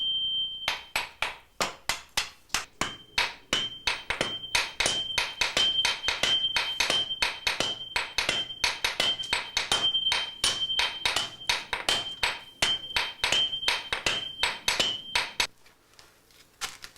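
A swordsmith's hammer strikes metal in steady, rapid blows, dozens of bright ringing impacts close by with a sustained metallic ring between them, then the hammering stops and the room falls quiet.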